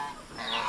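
Geese honk on a farm, a short rising call that sounds close and fairly loud, with no voices over it.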